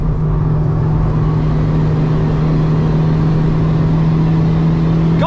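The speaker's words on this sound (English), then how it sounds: "God, it's a very fast car." Honda Civic Type R FK2 on the Nürburgring, engine droning steadily and loudly from inside the cabin as the car pulls hard, a constant buzzing tone with road roar and no speech.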